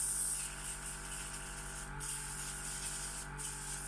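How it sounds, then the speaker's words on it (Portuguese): An airbrush sprays water through its nozzle for cleaning, giving a steady, soft hiss that runs continuously at low volume with two brief breaks. "É só ligar o aerógrafo, como se estivesse a pintar, e ele vai fazer essa limpeza."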